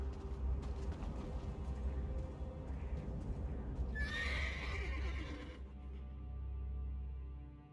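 Horse neighing in the video game Elder Scrolls Online, one loud drawn-out whinny near the middle, set against a steady in-game ambience and music bed.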